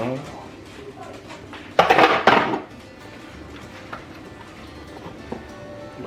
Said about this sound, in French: Pourquoi il ne ferme pas la cafetière?